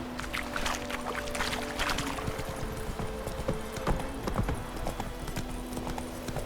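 Horse hooves clip-clopping in a steady galloping rhythm in The Witcher 3, close and continuous over a background of ambient game sound and music.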